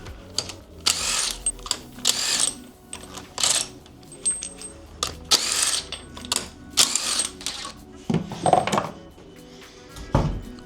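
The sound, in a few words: ratchet wrench removing car wheels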